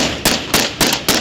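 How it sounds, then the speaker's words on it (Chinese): Gunfire from the Argentine navy aimed at fishing boats: four sharp, loud shots in a quick, evenly spaced series with no talking. "对于那些不遵守规矩的渔船，阿根廷海军也开始了开枪射击"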